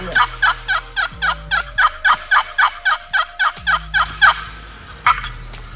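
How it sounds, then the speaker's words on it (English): A wooden turkey box call worked in a long, rapid run of raspy yelps, more than a dozen in steady rhythm, close and loud, with a thumb resting on the side panel to damp the box's vibration. "barely place my thumb on the side panel of the box call, cutting out the vibration in the box call"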